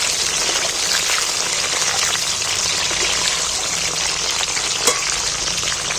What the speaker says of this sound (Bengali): আমি কাঁচা লঙ্কা দুটো তুলে দিচ্ছি আর টমেটোটা দিয়ে দিচ্ছি তেলটার মধ্যে একটু নাড়াচাড়া করে নিচ্ছি